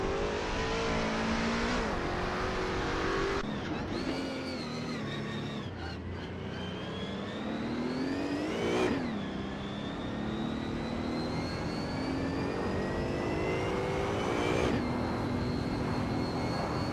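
Race cars in a racing video game accelerate and rev with loud, continuous engine whine, pitch sweeping up through gear changes and dropping sharply at shifts, several times over, with no talking.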